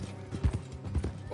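Horse hooves clip-clop in Red Dead Redemption 2: a brief run of soft, muffled hoofbeats at a walking pace, faint and fairly distant.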